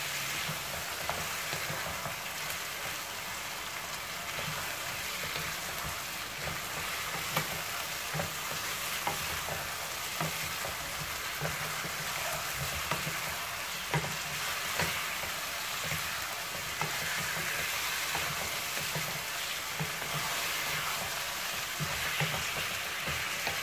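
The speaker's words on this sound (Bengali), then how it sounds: "দিয়ে আবার ভালোভাবে নেড়ে মাংসের সাথে মশলাগুলো মিশিয়ে দিব।" Chicken meat and spices being stirred in a pan produce a continuous, even frying sizzle with faint scraping strokes throughout, close and moderately quiet.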